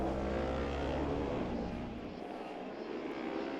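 Rallycross cars on the final lap of the Belgian RX 2023 round, heard as a steady, continuous engine roar from a distance, with no distinct voices over it.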